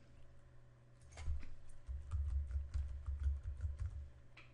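Typing on a computer keyboard while entering a router host name into HiveManager network settings: soft, quick key clicks in an irregular, busy rhythm, close and fairly quiet over a low steady hum.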